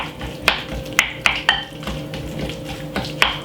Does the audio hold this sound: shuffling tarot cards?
no